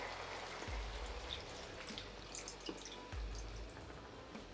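Water or broth is poured over veal fricandó with mushrooms in a pan, giving a soft, continuous trickling and splashing with low gurgling, faint and without talk.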